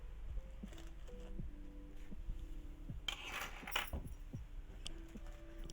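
A bunch of keys jangles close by in a quiet room, with short metallic rattles and chinks over a faint steady hum.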